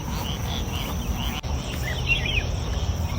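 Outdoor wetland ambience at Savannah Saint-Paul, with a dense constant drone of insects and scattered bird chirps and calls rising over it, steady and moderately loud with no talking.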